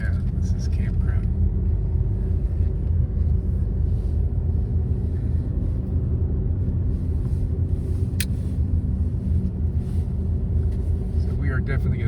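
A car drives down a grade in first gear near Black Rock State Park in northern Georgia, giving a steady low engine rumble and road noise inside the cabin with faint whispery sounds over it.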